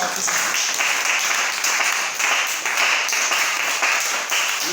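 A church congregation applauds together, a dense continuous clapping that stays loud and even throughout.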